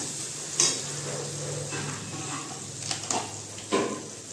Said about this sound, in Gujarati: હવે આપણે ખોલીને ચેક કરશું ફેરવી દઈશું